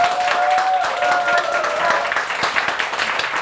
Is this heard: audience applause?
yes